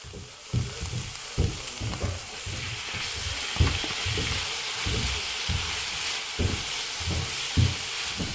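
Minced garlic and tomatoes sizzle in a hot pan while making bistec ranchero poblano, a steady close frying hiss broken by repeated low thumps and scrapes of stirring.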